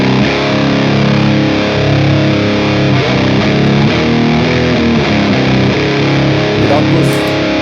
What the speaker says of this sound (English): going into the hard clipping brings you into that compressed, you know, sludge tone, fuzz territory